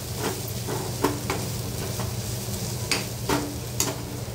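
Soft tomatoes and turmeric being stirred in a frying pan, a quiet sizzle with scattered scraping clicks of the spoon against the pan.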